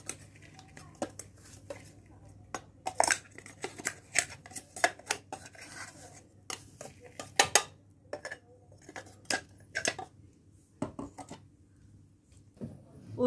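Ground rice and jaggery paste is scraped out of a mixer jar with a spoon, giving a run of sharp metallic clinks and scrapes in irregular bursts against a quiet background.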